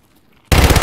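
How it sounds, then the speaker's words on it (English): Automatic gunfire from the video game Escape from Tarkov erupts abruptly after a near-silent half second, a loud, rapid burst of shots. "I count three, we shoot him."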